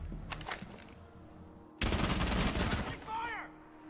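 In the Rainbow Six Siege video game, a loud, rapid burst of gunshots is fired at the floor, lasting about a second, with quieter game sounds before and after.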